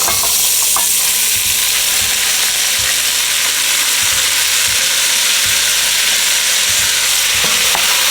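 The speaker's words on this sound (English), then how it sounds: "Bit more oil, just a little bit of butter. Now we're gonna just add our veggies." Vegetables including onions frying in oil and a little butter in a pan, a loud dense sizzle with occasional stirring knocks and scrapes throughout, close up and without speech.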